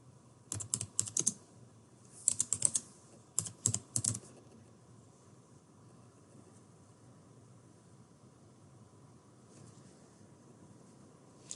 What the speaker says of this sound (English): And we're going to start typing.